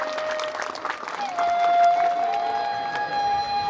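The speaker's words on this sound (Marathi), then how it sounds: "जोरदार टाळ्या वाजवायच्या आहे" A gathering at a felicitation ceremony after a torch lighting breaks into steady, sustained clapping, with a held musical tone running beneath the applause.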